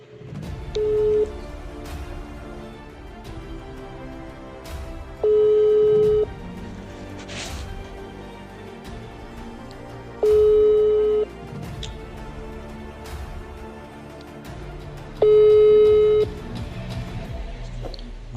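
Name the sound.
telephone call ringing tone, not answered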